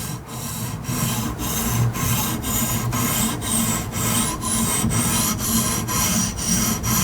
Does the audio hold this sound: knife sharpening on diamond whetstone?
yes